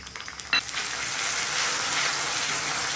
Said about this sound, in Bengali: একটু ভালো করে মিশিয়ে নেব, একটু ভেজে নেব।